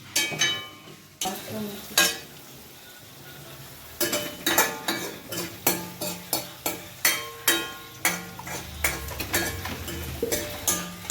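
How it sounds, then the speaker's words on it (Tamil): Onions being stirred and sautéed for Hyderabad dum biryani, with a spoon clinking and scraping against the pot in a steady rhythm of sharp taps over a faint sizzle. "வெங்காயம் பாருங்கள், இப்படி தான் வதக்கணும். கிண்டிக்கிட்டே இருக்கணும்."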